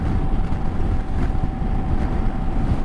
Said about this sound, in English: And I'm riding my motorcycle.